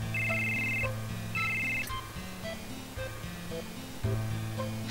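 A telephone rings in the video game Final Fantasy VII, a repeating electronic ringtone pattern of short tonal bursts with brief gaps, clear and fairly close, with little else around it.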